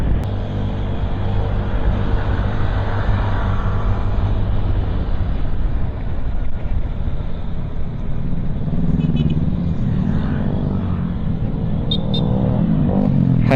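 Continuous road and wind roar from a Honda Click 125 scooter cruising on a highway in the Philippines, a steady loud low rumble with wind buffeting throughout and no speech.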